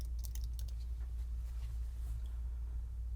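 Keystrokes on a computer keyboard as a search term is entered, a quick burst of faint clicks in the first second followed by a few scattered taps over a steady low hum.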